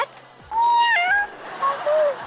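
A child imitates a cat's meow with a few drawn-out, rising and falling mews, close and fairly loud, separated by short pauses.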